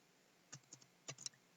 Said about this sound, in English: I'm just going to type a second here